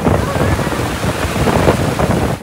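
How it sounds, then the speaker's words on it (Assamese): Heavy wind and rain lash the microphone during a storm in Thailand, a loud, dense roar of buffeting gusts and downpour that runs unbroken before cutting off abruptly. "ভয়ানক বতাহ বৰষুণ দিলে"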